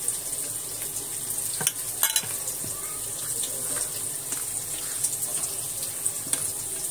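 Marinated paneer pieces with large chunks of cut onion being gently mixed together in a bowl, producing continuous wet, squelchy stirring and soft sloshing with a few sharper clicks of a utensil against the dish.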